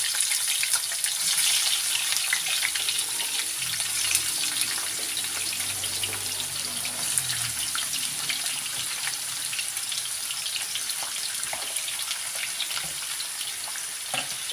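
Zucchini slices frying in hot oil for a mixed fried dish, a steady, dense sizzle with fine crackling pops that holds evenly close up throughout, with no talking.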